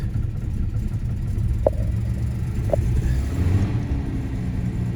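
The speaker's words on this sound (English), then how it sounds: "Just sort of beating the gas a little bit." A Jaguar XJC engine runs with a steady, low, close rumble, broken by two brief sharp clicks.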